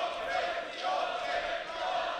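A kickboxing-match crowd at a FEN 2 fight roars in a continuous, loud wash of cheering and shouting, steady across the moment with no breaks, commentary faintly underneath.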